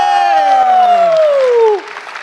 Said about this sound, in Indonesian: Sekali lagi boleh tepuk tangan buat Ridwan Remil.